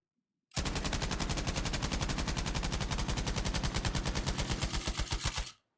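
Fully automatic gunfire in Battlefield V, a rapid, even burst of shots lasting about five seconds, loud and close, with no talk over it.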